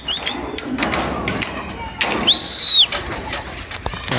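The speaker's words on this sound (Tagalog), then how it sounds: "papasukin ko munang lahat mga kalapatids" Breeding pigeons coo in a loft, with a soft call and brief bird sounds under nearby talk.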